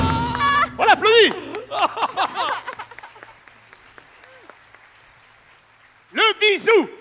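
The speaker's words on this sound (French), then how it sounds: "On l'applaudit." Audience applause breaks out after a contestant wins the top prize in a staged quiz scene during a 2006 French theatre show, a steady wash of clapping under loud overlapping voices and shouts at the start and end.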